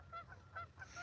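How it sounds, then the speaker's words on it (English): Geese honk several times at a distance in an outdoor state park, the calls spaced in a loose rhythm over a low steady background rumble, with no voices. "listening to the geese in the background"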